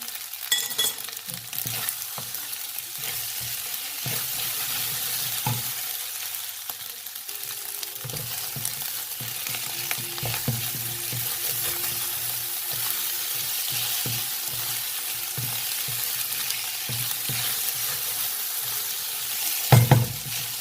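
Steady sizzling and frying from a hot wok, with repeated scraping and tossing strokes as Thai fried rice is stir-fried, close and continuous throughout.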